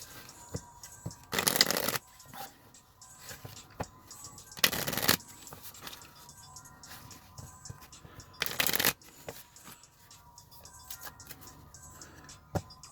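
Three distinct riffle shuffles of a Gears of War card game deck, each a short crisp burst about a second long, with soft card handling and tapping in between and no talking.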